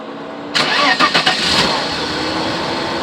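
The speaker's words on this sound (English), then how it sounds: "The car starts." A 1996 Mercedes-Benz E320 W210 with a no-start issue cranks briefly in a few quick pulses, then catches and settles into a steady, even idle close by.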